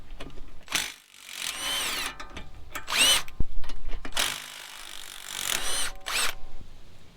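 A power tool works off the tie rod side bolts of a steering stabilizer on a 2021 Jeep Gladiator Rubicon, loud close bursts of whirring and rattling impact separated by short pauses, with no speech.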